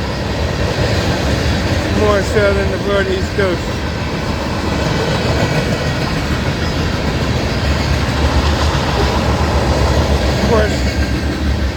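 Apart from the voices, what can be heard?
CSX manifest freight train passing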